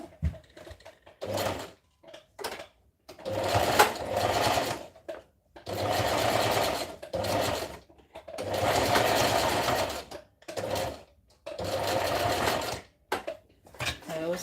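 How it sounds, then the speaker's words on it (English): A sewing machine running a zigzag stitch in close, loud bursts of rapid mechanical whirring, about six runs separated by short pauses. "I'm gonna go ahead and stitch from the top to the downer part of it"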